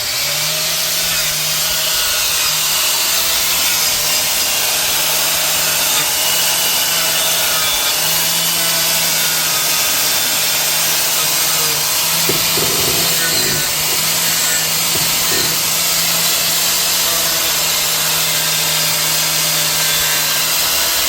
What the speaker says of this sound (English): I'm just going to clean up these surfaces with the wire wheel and the inside as well before we put the new bushings in